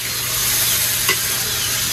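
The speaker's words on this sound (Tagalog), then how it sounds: "Chicken pork adobo." Chicken and pork adobo sizzles in a pan over a fire, a steady, close hiss running throughout with one brief stirring knock about halfway, and no voices.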